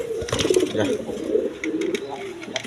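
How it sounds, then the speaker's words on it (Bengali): A pair of king pigeons coo in soft, throaty, repeated rolls, close and fairly loud, with a few brief higher sounds and faint background noise between calls. "এইখানে এক পেয়ার কিং কবুতর আছে"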